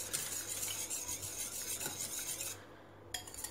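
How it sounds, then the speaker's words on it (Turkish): Yogurt is stirred quickly into a flour soup in a pot, making rapid, rhythmic scraping and swishing at close range. The stirring stops briefly near the end, followed by a soft clink. "Bir yandan yoğurdumuzu boşaltıp bir yandan da hızlı bir şekilde karıştıralım arkadaşlar."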